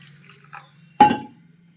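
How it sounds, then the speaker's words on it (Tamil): Water splashes into a bowl while samba wheat rava porridge is being made: one short, close splash with a light clink, then fading drips over a faint low hum. "தேவையான அளவு தண்ணி ஊற்றிக்கலாம்."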